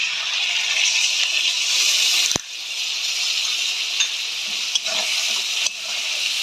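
Spice paste sizzles and is stirred in a hot pan while cooking a green banana kofta curry, a steady frying hiss broken by a few sharp clinks of the utensil against the pan.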